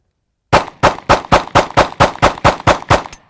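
Ten sharp shots from a Springfield Hellcat pistol fired in an even, rapid rhythm, loud and close, after a brief silence, with a short fading tail.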